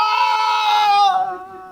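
A single long, high human scream from a person pulled into dark woods, loud and sustained for over a second before tapering off, heard alone.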